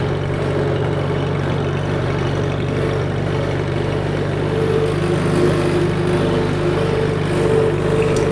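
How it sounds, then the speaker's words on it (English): A tractor engine fitted with a sports exhaust runs at a steady, loud idle-like drone with a deep low rumble and constant throb throughout, no talking over it. "Oh, listen to that sports exhaust."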